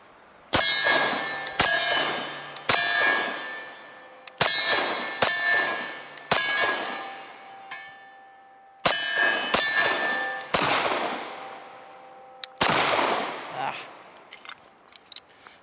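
Eight or so sharp, ringing pistol shots from a SIG Sauer P227 fitted with a DPM recoil reduction system, fired close by in uneven bursts of two and three, each with a metallic clang and a short decaying tail.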